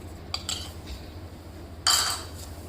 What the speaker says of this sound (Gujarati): અને બે બેથી ત્રણ મિનિટ સુધી આ રીતે લગાતાર એને હલાવતા રહીશું